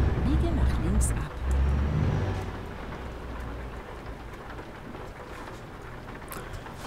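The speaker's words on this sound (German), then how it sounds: "Hoffen wir mal, dass der Regen irgendwann aufhört" Rain pattering steadily in a truck driving game, with engine rumble underneath and a voice talking over it for much of the stretch.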